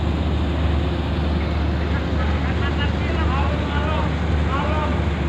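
A large ship, the Neomi, manoeuvres out of Dock 2 at Merak port, giving off a deep, steady engine rumble under wind buffeting on the microphone, with faint higher whistling tones drifting in partway through.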